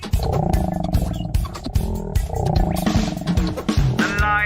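A lion roars in the Hope Harbor Zoo game, two long, loud, close roaring bursts with guttural rumbling and a short pause between them.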